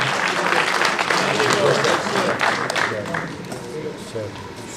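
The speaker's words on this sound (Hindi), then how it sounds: "तालियां हो जाए प्लीज, तालियां हो जाए" At a student felicitation ceremony in Srinagar, an audience applauds with a full, steady clatter that gradually thins and fades, while a voice talks over the clapping.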